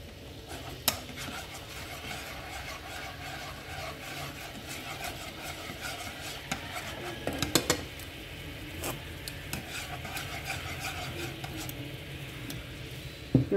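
Quiet clinking and scraping of a spoon stirring vegetarian ribs in caramel sauce in a pan under a low bubbling hiss, with occasional sharper taps.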